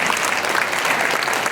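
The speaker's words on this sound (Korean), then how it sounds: "하나님께 영광의 박수 한번 돌려드립니다" A church congregation claps in praise during a Korean worship service, a dense, steady wash of many hands filling the sanctuary for a brief moment.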